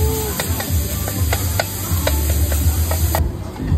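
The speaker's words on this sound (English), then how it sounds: "But you just stick it on the grill." Food sizzling loudly on a hot grill at a hot pot restaurant, a steady close frying hiss with scattered crackles and pops that cuts off abruptly near the end.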